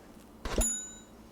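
A bright notification bell ding rings once, clear and close, its metallic tone decaying over about a second in an otherwise quiet setting.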